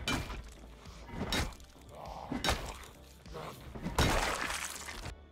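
Window glass shatters in Project Zomboid, with several crashing breaks and thuds spread over a few seconds against busy game noise.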